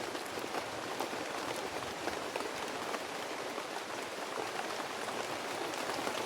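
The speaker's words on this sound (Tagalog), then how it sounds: "Lakas ng ulan" Heavy rain pours steadily through a video game scene, a dense, constant hiss of drops with no talking and no break across the stretch.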